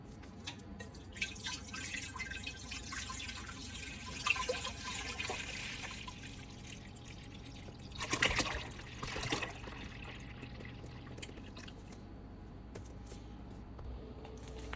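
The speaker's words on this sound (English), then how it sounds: "we are going to dump in the grape juice" Grape juice pours into a big pot as a faint trickle and drip of liquid, with two brief louder splashing surges.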